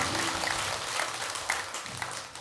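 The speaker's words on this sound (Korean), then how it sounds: "박수 한번 보내주시기" An audience at a Buddhist dharma talk in a temple claps for the abbot, a dense, steady round of applause throughout, fairly close and without voices.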